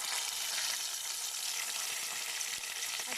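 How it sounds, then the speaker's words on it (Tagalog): Fish frying in hot oil in a pan, a faint, steady crackling sizzle close by with occasional small pops, no talking. "Magluto lang muna ako ng fried fish for now."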